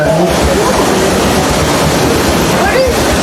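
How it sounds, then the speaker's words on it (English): Water rushes steadily into the tender of a real steam locomotive stopped on an amusement park railroad, a loud continuous gushing roar that never lets up. "we take on about 600 gallons of water every 2 hours, folks"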